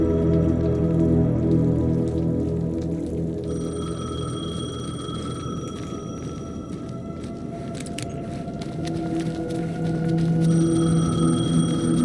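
A telephone rings in Alan Wake 2 against a steady low ambient drone, its repeated high ring bursts clear and moderately loud from start to finish with no talk.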